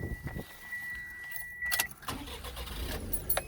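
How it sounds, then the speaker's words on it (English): Keys jangle up close, then the engine of a 2018 Daihatsu Hijet Deck Van 4x4 mini truck cranks and turns over with a short burst of mechanical noise. "Start the engine"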